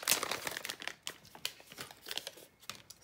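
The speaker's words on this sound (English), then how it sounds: "cut through the little example page." Scissors cut through a small example page from a coloring book, a close, continuous papery crinkling and snipping with irregular crisp bursts for a few seconds.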